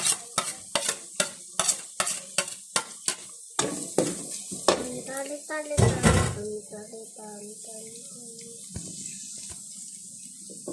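Steady hiss of garlic frying under repeated metal scraping and tapping of a utensil against a pan, with voices talking nearby.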